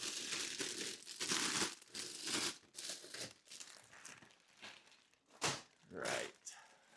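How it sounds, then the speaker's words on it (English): Plastic bags for building sets are handled up close, with bursts of crinkling and rustling coming in irregular clusters, some louder and some faint, with short pauses between. "let's get some bags looked out"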